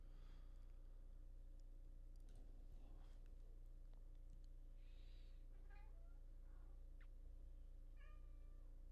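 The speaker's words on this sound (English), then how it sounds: "Cat is screaming at me for food." A cat meowing insistently for food, several short separate meows over a steady low hum, fairly faint and at a moderate distance.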